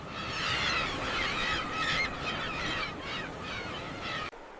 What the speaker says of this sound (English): Birds follow schools of fish and the boats pursuing them.